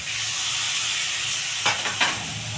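Water from rinsing a cashew bowl is poured into a hot pan that hisses steadily, then two short splashy bursts of sizzle rise briefly near the end.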